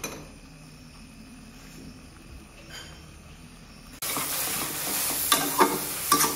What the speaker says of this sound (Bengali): এখন চিংড়িটাকে একটু সেদ্ধ করে নিব মশলার সাথে